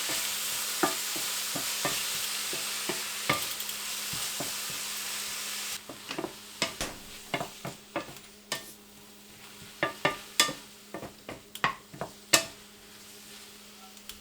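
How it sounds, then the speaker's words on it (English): White onion and pineapple sautéing in an oiled pan for a squid and pineapple stir-fry, with a steady sizzle underneath and frequent sharp clacks of a utensil stirring and scraping against the pan, alone without talk. "Add in the white onion and pineapple. Sauté until the onion is translucent."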